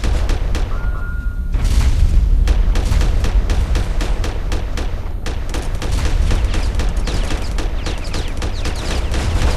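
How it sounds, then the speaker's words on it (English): Missiles firing and exploding in the space combat game Starfarer, a dense rapid barrage of sharp blasts and booms over a loud steady rumble, continuous for several seconds. "Fire all of the missiles."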